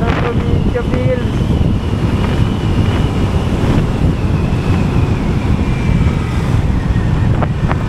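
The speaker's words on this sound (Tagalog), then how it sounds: "Grabe lakas ng hangin ngayon." Strong wind buffets a chin-mounted helmet camera on a ride, a loud continuous low roar and rumble with no break.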